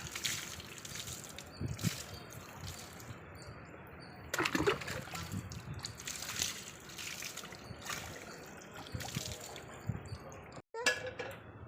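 Water is poured and splashed over a dog during a bath, with uneven gushes and trickles, near and moderately loud, in bursts with short pauses between.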